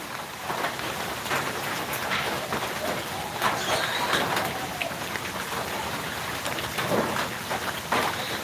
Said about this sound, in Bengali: একটু আগে বৃষ্টি আসলো আর কি